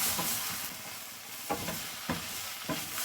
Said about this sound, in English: Now cook with the onions about 2 to 3 minutes.